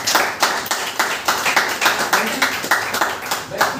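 An audience claps steadily through a presentation in Sr Nagar, the dense patter of many hands loud and continuous from start to finish, swelling slightly in regular pulses.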